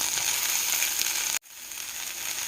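Bitter gourd (kasarakaya) fries in a pan with a loud, even, hissing sizzle that breaks off abruptly for a moment partway through and then resumes steadily.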